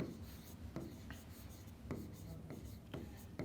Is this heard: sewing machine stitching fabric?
no